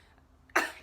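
A single short cough from a person, sharp and fairly close, breaking a near-quiet pause near the end.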